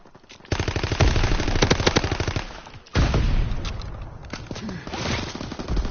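Call of Duty WW2 gunfire: rapid automatic bursts of machine-gun shots, loud and close, two sustained volleys separated by a brief gap, with the second trailing off into scattered shots.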